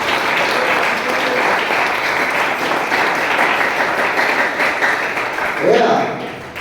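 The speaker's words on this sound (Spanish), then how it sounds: "Denle un aplauso fuerte al Señor para iniciar" Congregation applauding loudly at a church service sermon, a steady dense wash of clapping throughout with some voices mixed in, tapering slightly at the end.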